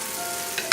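BBQ shrimp sizzle in a hot pan as they are turned, a short close burst of frying hiss ending in a quick scrape or clatter.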